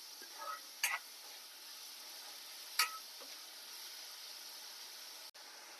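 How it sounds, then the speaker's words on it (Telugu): Vadiyalu, lentil dumplings, fry in hot oil with a soft, steady sizzle under a few sharp crackles and pops, heard faintly and without any talk. "వడియాలు అందులో వేపుకుంటాను, కాగు నూనె ఉంది నా దగ్గర, అందులో వేపుకుని ఇందులో వేసుకుంటాను అనమాట."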